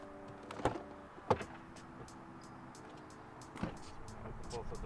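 A BMW F10 car door opens during a sideskirt removal, with a few sharp clunks and latch clicks over a faint steady background hum, fairly close.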